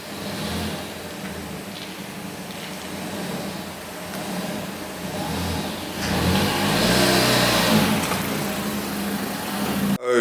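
A Ford Fiesta Mk6 drives into a garage unit, its engine idling and then revving louder as it pulls in, with a rising accelerating note near the end, close by and with no talk.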